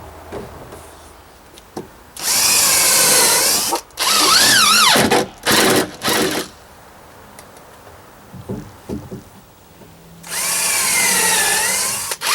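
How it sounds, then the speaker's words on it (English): A power drill drives screws into deck boards in loud whirring bursts, two long runs and a few short ones, separated by quiet gaps with faint handling noise. "When you're screwing these down, step on the boards that you're putting your screws in."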